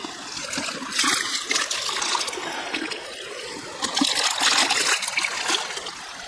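Water tipped out of a gold pan splashes and trickles in uneven pours, loud and close, with surges and brief lulls.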